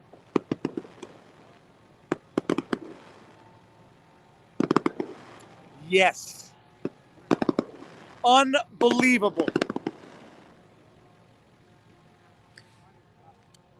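Sharp cracking bangs and whistling bursts of fireworks go off in irregular clusters nearby in a street in Ottawa during the 2022 Freedom Convoy, with a person speaking briefly between the blasts.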